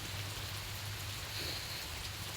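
Constant rainfall hisses evenly over a surface in a durian orchard, with a faint low drone beneath it.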